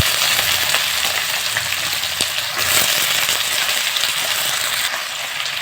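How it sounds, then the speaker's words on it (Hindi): Potato pieces fry in hot oil in a pan, a loud, close, continuous sizzle with faint clinks and stirring scrapes and no voices. "पहले आलू के डाल के हम तेल में फ्राई करें 2 से 3 मिनट तक"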